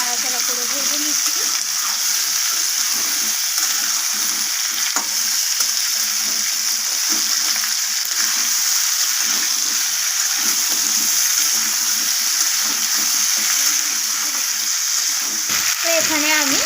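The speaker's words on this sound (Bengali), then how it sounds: "টমেটোটাকে দিয়ে আমি আবারও আলুর সাথে এইভাবে নাড়াচাড়া করে ভেজে নিচ্ছি" Chopped tomatoes and potatoes for a spicy potato-capsicum dish fry in a pan, a steady bright sizzle broken by irregular scraping stirs and clattering, with a faint bit of talk near the start.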